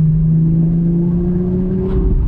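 A 1996 Porsche 911 Turbo pulls hard in third gear with a touch of turbo lag, its engine note a steady, loud drone that rises gradually in pitch throughout, with no talking.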